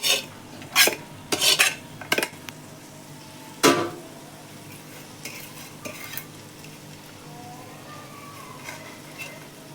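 Chilli powder, coriander powder, fresh coriander and mint being sautéed and stirred in a pan for pulao, with sharp clanks of a utensil against metal early on, then softer stirring and low sizzling, up close.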